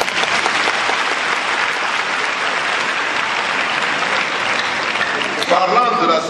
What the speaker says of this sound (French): Ça vaut des applaudissements quand même.